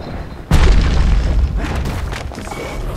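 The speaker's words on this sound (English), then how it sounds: "Grenade? He's wise to toss those things plenty far away." A grenade goes off in the video game Bastion as one sudden loud boom with a deep low-end thump, followed by a few seconds of rumbling, crackling aftermath that slowly fades.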